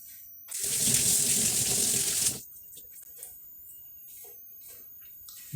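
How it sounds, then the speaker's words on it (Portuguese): A silver chain rinsed under a running tap, a steady gush of water for about two seconds, then stopping, leaving faint small clinks and handling noises. "Agora vamos lavar em água corrente."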